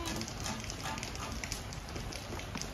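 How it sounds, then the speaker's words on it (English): Rain falls steadily on an outdoor eating spot in China, a dense, even patter close by with no break. "We are eating in the rain. In the beautiful rain."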